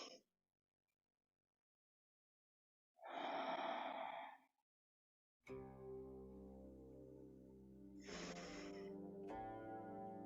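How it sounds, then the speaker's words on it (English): One deep, breathy exhale during a qigong exercise, close and clear after near silence, followed by sustained resonant tones. "Inhale, chest to the sky. Exhale, chest to the earth."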